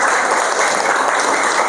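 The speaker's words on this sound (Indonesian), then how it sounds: "Tepuk tangan buat kalian semuanya." Students in a classroom applaud together during a lesson, producing a steady, dense patter of clapping that stays loud and even from start to finish with no pauses.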